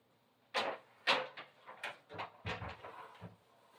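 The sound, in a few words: door being shut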